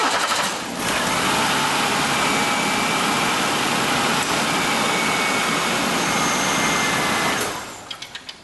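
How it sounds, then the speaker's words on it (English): A 1995 Oldsmobile Cutlass Ciera, freshly tuned with new spark plugs, wires and a replaced failed ignition coil, catches and runs at a steady, even idle, loud and close, before cutting off with a few short pulses. "Go ahead and start it up."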